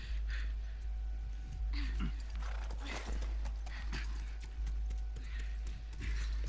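Horse hooves in the video game The Last of Us Part II clip-clop steadily over a constant low rumble, with a brief whinny-like sound and some faint talking mixed in.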